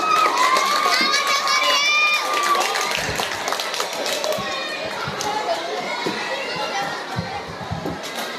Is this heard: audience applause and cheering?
yes